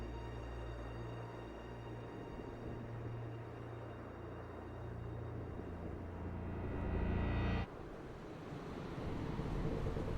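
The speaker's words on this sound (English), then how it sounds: "Their galleon cuts through the water, lancing towards the inevitable." A galleon cutting through ocean waves in a Bloodstained: Ritual of the Night cutscene, with a continuous roar of surf and rushing water under a low rumble that shifts abruptly partway through.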